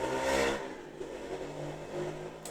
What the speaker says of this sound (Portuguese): Sempre tem que ter uma moto pra atrapalhar meu vídeo.